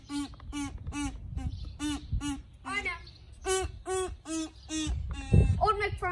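A kazoo buzzes out the tune of Old MacDonald Had a Farm in short, evenly spaced nasal notes, close and fairly loud, with a low background hum and a brief burst of talking near the end.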